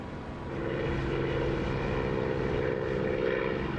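A propeller aircraft in the DCS flight simulator drones steadily as its landing gear lowers, a continuous engine hum that swells slightly after the first half second and stays even, with no speech.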